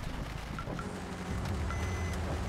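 A UAZ Hunter reversing in the driving game Russian Car Driver, its engine idling low while a repeated high reversing beep chirps at a steady, evenly spaced rhythm.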